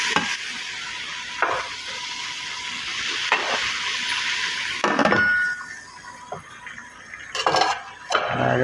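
Pieces of broasted chicken being stirred in an oiled pan, with intermittent scraping strokes and metal clatter over a soft, steady sizzle, close by and without talk.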